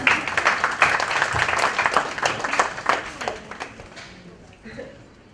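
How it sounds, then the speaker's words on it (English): Audience applause at a book launch fills the room, steady and fairly close, then gradually thins and fades over several seconds, with voices faintly mixed in. "Applause."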